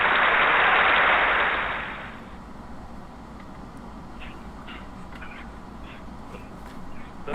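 A studio audience at Anime-Zing Radio applauds to welcome the guest cast: a loud burst of clapping for about two seconds that quickly dies away into quiet room tone.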